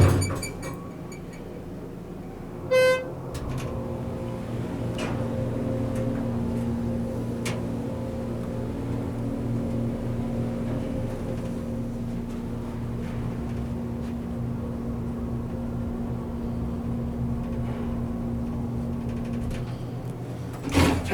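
A Schindler hydraulic elevator runs in a scenic shaft at a mall: a low steady motor drone with a faint tonal whine holds for most of the ride, bracketed by a brief chime and clunks near the start and end, with no speech.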